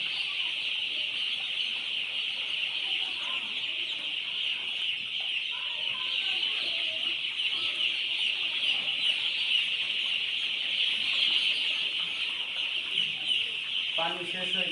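Chickens clucking steadily alongside a loud, constant high insect-like drone, with a few sharper calls near the end and no speech over them.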